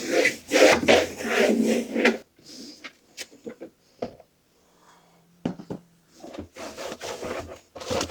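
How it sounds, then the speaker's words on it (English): Cloth rubbing and scrubbing against the inside walls and bottom of a deep freezer, in close, fairly loud bursts of wiping strokes with brief pauses between them. "I'm just going to wipe inside all the walls and the bottom."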